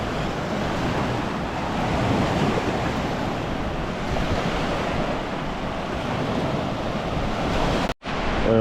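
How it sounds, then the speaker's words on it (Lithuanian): Surf from a fairly calm Baltic Sea rolling onto the beach at Šventoji, a steady close washing roar with wind buffeting the microphone throughout and a brief dropout near the end. "Nėra pikta jūra."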